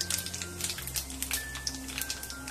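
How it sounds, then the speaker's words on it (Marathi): Mustard and cumin seeds crackle in hot oil in a pan for a raw mango dal tempering, giving fine, dense, rain-like sputtering pops with a steady faint hum underneath. "छान तडतडू द्यायचंय."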